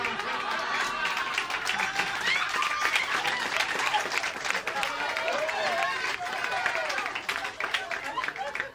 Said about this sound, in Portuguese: Vocês estão fazendo aplauso interrupting